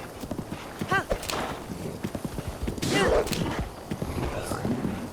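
Horse hooves clip-clop at a quick pace with a neigh in The Legend of Zelda: Breath of the Wild, amid game effects and a voice talking over it.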